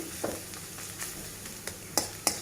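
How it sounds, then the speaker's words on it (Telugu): Brinjal curry frying in a pan, with a soft continuous sizzle broken by occasional sharp clicks and scrapes of a utensil, close up with no talk. "ఇంకా కొంచెం సేపు అట్లా వేగనిద్దాం, మూత వేసేద్దాం, వేగిపోతుంది"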